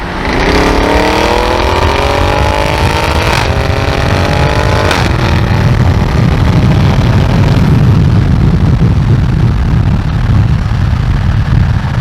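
An 850 hp Audi RS7 launched flat out in a race, its engine roaring loud and close as the revs climb through a shift, then settling into a sustained heavy rumble.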